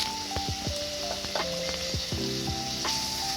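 Chili powder and turmeric powder sizzle in hot oil in a pan while being stirred for a Kozhikode-style Kerala drumstick and prawn curry, a soft steady crackle broken by scraping spoon strokes and clinks, with no talking.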